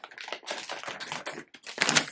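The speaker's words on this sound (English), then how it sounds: "I'm going to try not to crinkle, but it is in a plastic bag, so it may be a little bit loud" Close, loud crinkling of a plastic bag in irregular bursts, with a brief spoken word.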